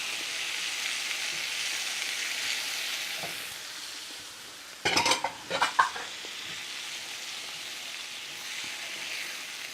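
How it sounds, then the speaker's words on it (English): Onion frying in a pan for chicken curry, a steady sizzle with a burst of stirring and utensil scrapes midway, then the sizzle carries on alone. "Just want to cook the onion"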